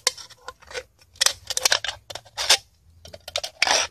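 Scissors snip through the thin metal side of an aluminum can, a run of short, crisp cuts with brief pauses between them, close and fairly loud with no talking.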